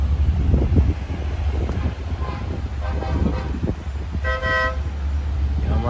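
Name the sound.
truck driving up a highway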